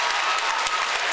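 A basketball crowd of home fans claps and cheers in a gym, a dense burst of applause with sharp individual claps standing out.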